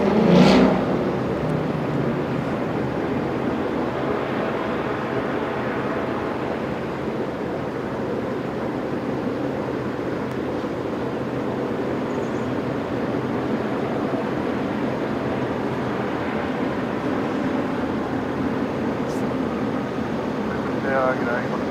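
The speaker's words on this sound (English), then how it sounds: "it's probably the noisiest aircraft that departs here at night. The Qantas 330, one of the noisier bunch." A Qantas A330 airliner departs at night, its jet roar a loud, steady broadband rumble that holds throughout at some distance, with someone talking over it.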